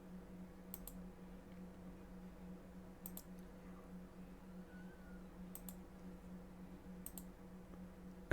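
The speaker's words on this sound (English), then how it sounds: "Right click, right click, right click, right click." Computer mouse clicks in embroidery digitizing software, four sharp, isolated clicks spaced a couple of seconds apart over a quiet room hum, close to the mic, with no talking.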